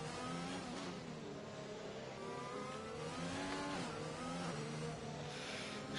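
Race car engine in a sim racing game held at high revs, a steady dense harmonic drone that swells and wavers as the car pushes close behind a rival on the France circuit.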